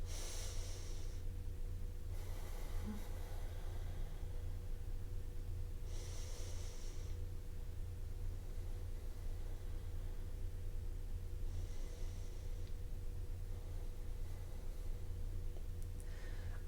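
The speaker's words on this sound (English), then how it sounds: "take a few of those balanced breaths in and out" Slow, even breaths in and out during a seated yoga stretch with arms raised overhead, several soft airy exhalations recurring every few seconds over a constant low hum, no talking.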